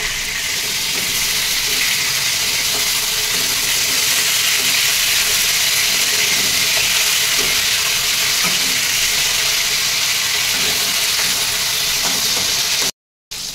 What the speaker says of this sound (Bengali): এবার যতক্ষণ এই দিকে মাছ ভাজা হচ্ছে